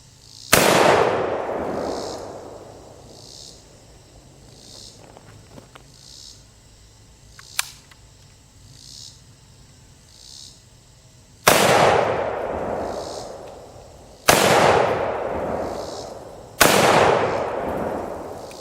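Shots from firearms such as an M&P9 pistol, M&P PRO, Remington M12 and AK47u ring out. One loud crack comes early, and three more follow in quicker succession after a long quiet gap, each with a rolling echo that fades away.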